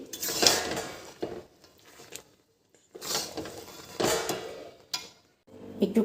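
Mango pickle being stirred after coriander, cumin and dried chili powder go in: intermittent scraping and clinking of a spoon against the pot in short bursts, with quiet pauses between them.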